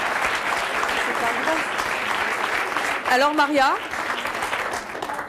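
A studio audience applauds steadily in a dense, even wash of clapping, while a person speaks briefly over it partway through.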